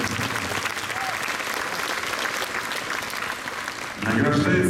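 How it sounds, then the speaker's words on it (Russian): Loud, dense applause from a crowd at an award ceremony for a Russian freestyle skiing championship, steady throughout and swelling louder near the end. "Давайте поздравим бурными аплодисментами."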